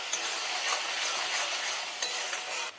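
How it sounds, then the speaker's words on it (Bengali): Cumin powder, salt and sugar are stirred into frying spices in a pan, a continuous close sizzle with scraping stirs and faint clinks, without any voices. "এগুলো একটু মশলার সাথে ভালো করে মিশিয়ে নিচ্ছি"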